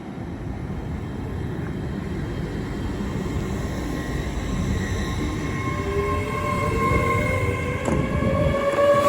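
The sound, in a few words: Great Western Railway Class 800 train 800301 departing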